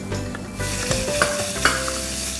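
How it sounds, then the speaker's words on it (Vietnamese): A meat filling with minced shallots and garlic is stir-fried in a pan, giving steady sizzling with a few scraping stirs of the utensil, close and clear, with no talk. "Và mình sẽ xào cái phần nhân lên nha"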